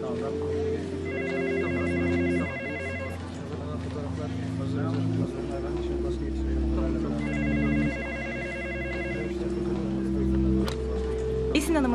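A telephone rings in a busy office, its repeating electronic ring tone sounding in two bursts under steady conversation and background hum.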